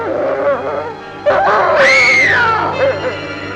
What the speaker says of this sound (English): I thought I heard someone scream.